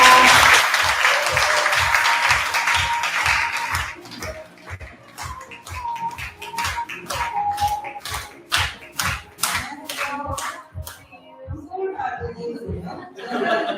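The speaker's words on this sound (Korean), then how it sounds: "큰 박수 부탁드립니다." Audience at a meeting applauding a guest: loud, dense clapping for the first few seconds, then thinning into spaced rhythmic beats as people talk over it.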